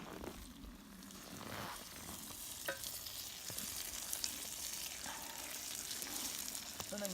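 Eggplant sizzles in a pan over a winter campfire, with a soft steady frying hiss broken by occasional clinks and scrapes of stirring, fairly quiet and close, with no voices.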